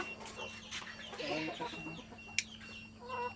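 Chickens clucking in a poultry farm shed, a steady mix of soft clucks and short calls from several birds nearby, with a constant low hum underneath and a sharp click partway through.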